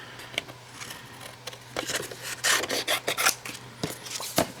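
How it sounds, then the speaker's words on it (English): Paper being trimmed down for a floral frame card makes a steady scraping, rasping cut at close range, rising in bursts toward the middle and ending with a few crisp strokes. "so let's trim this down just a little bit."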